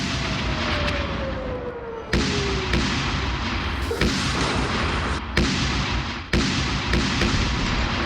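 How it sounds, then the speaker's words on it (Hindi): Bombs from Israeli airstrikes on Hamas tunnels go off as a rapid series of heavy, booming blasts, about six or seven loud detonations with sharp onsets, one after another over a constant rumble. "बम बरसाना शुरू कर दिया"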